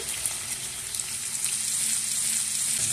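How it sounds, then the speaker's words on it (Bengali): Potatoes fry in hot oil in a pan for an Aloo Diye Dim Bhapa dish, a loud, close, continuous bright sizzle with faint scraping as they are stirred. "আলুগুলো আমি নেড়ে চেড়ে ভালো করে ভেজে নেব।"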